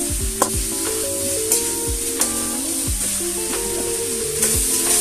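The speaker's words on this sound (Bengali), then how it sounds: "আমি শক্ত শক্ত সবজিগুলো আগে দিয়ে দিচ্ছি, আর নরম সবজিগুলো এতে 1 থেকে 2 মিনিট কষিয়ে তারপরে দিয়ে দিব।" Hard vegetables frying with spices for a Bengali vegetable khichuri crackle in a steady loud sizzle, with a utensil scraping and knocking against the pan every second or so, and no voices.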